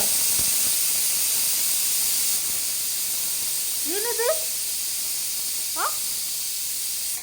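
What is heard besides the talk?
pressure cooker whistle releasing steam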